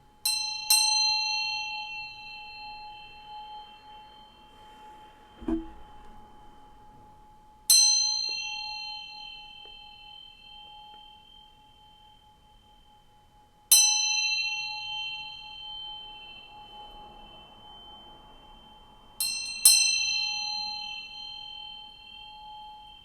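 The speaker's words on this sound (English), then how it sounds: "I'm going to ring this bell to bring some good vibes" A small bell is struck four times at slow, spaced intervals, each strike a bright clear ding that rings out and slowly fades, close and loud, with quiet pauses between strikes.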